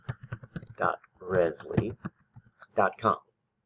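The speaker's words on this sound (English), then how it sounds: "you can just type portal.rezzly.com" Quick bursts of key clicks as a web address is typed on a computer keyboard, close and crisp, with a person talking over the typing.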